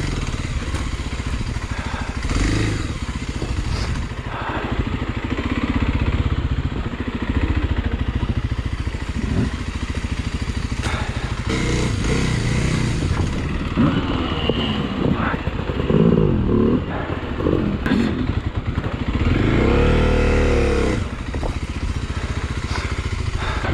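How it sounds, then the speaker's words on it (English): A GasGas XC300 dual-sport motorcycle's engine drones steadily while riding a rough enduro trail, loud and close throughout with a few rises in revs, along with rattling and clatter from the bike over the terrain. "Tiny powered bike."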